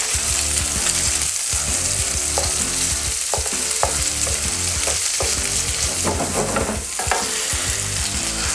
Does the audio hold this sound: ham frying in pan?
yes